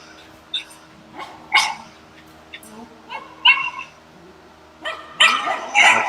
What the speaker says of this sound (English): when they're barking like that, they're about to figure it out